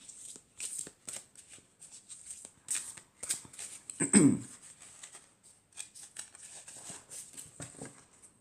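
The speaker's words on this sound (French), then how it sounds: "je vais retirer une autre carte pour voir ce que ça nous dit." Oracle cards are shuffled and drawn by hand, with soft riffling taps and brushes in irregular bursts and one louder slap near the middle, close and fairly quiet.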